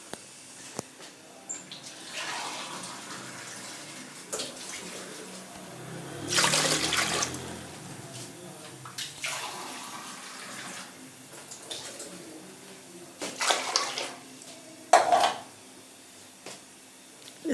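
Tap water runs into a cooking pot for macaroni in a kitchen, coming in uneven bursts of splashing and gurgling with a louder pour midway and scattered clinks of the pot, no talking.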